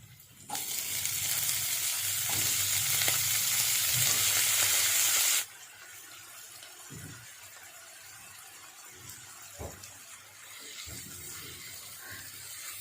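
Ridge gourd pieces hitting hot oil in a pan set off a loud, steady sizzle for several seconds, then the frying quiets to a low crackle with occasional stirring clinks.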